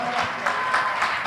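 Congregation clapping together during an Easter worship service, a steady pulsing wash of hand claps with a regular beat, fairly loud and continuous.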